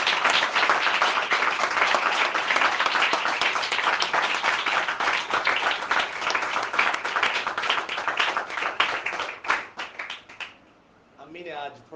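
Loud, dense applause from a church congregation, steady sustained clapping for about ten seconds before tapering off into a few scattered claps and a voice near the end.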